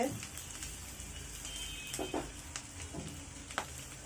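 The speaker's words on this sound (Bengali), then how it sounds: "পেঁয়াজগুলো হালকা ব্রাউন করে ভাজা হয়ে গেছে" Onions fry to a light brown in a pan for a banana-flower curry, producing a faint, steady sizzle punctuated by a few sharp spatula clicks and scrapes.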